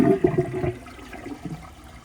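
Glacier Bay high efficiency toilet from 2017 flushing, a short close rush of water that quickly fades to a low gurgle; no voices.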